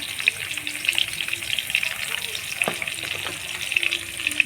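Potatoes frying in oil already used for frying onions, seasoned with salt and turmeric, produce a continuous close sizzle and bubbling hiss with occasional sharper pops and a light stirring scrape, and no one speaks.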